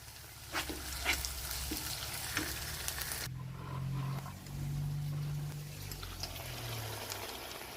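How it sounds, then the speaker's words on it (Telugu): Onion and ginger paste with spices frying in a pan for a Telangana-style fish curry, with a soft sizzle and a few stirring knocks, then a quieter bubbling simmer. "ఇప్పుడు మంచిగా వేగనిద్దాం ఇవన్నిటిని"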